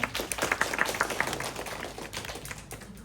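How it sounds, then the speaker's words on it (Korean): A church congregation claps in welcome during a Thanksgiving Sunday service, a dense run of quick hand claps that fills the first second or so and then thins into a softer patter, with no talk over it. "우리 박수로 환영하겠습니다."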